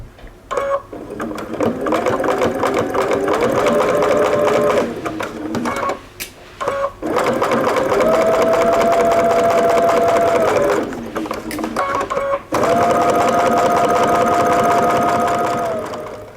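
A sewing machine stitches fabric around the edge of a pin cushion in three long, steady runs of motor whir. Each run ends briefly, then starts again, and the sound is close and loud.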